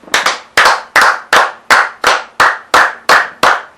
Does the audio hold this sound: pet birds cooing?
no